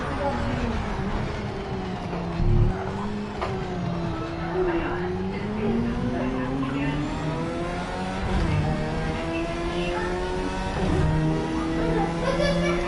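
A Ferrari F50 GT race car in the video game Project Cars 3, its engine droning steadily and rising and falling in pitch as it accelerates and shifts, loud and continuous throughout.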